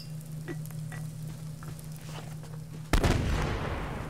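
A grenade explosion in the survival game Subsistence goes off abruptly and loudly partway through, blasting open a room after a stretch of low crackling ambience, with a noisy rumbling tail.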